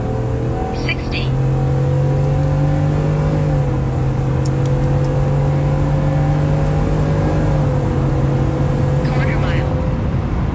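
Ford F150 truck with a 5.0 Coyote V8, custom tuned and in 2-wheel drive, accelerating hard at full throttle on a quarter-mile run, engine drone climbing steadily through a gear change, loud and close under steady cabin noise.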